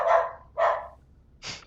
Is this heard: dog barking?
yes